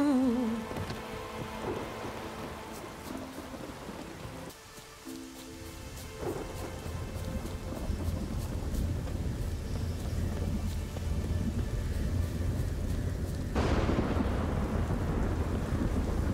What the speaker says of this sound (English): I love how they also programmed for this quest to be in the rain